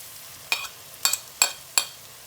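Onion and fresh chopped garlic frying in a pan, with four sharp utensil strikes against the pan over a faint, soft sizzle.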